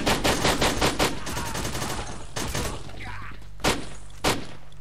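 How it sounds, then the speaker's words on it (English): Machine gun fire in the shooter Lost Alpha, close and loud, opening with a rapid rattling burst that tapers into scattered shots and ends with two separate heavy thumps. "on one hand, the machine gun is mighty"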